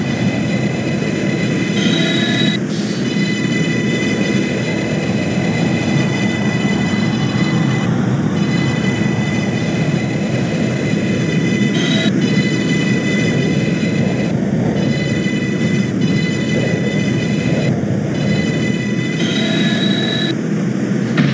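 A simulated New York City subway 6 train, Brooklyn Bridge bound, rolls steadily through the tunnel in the OpenBVE game, a loud constant rumble of wheels and motors with occasional high squeals and clicks, no voices.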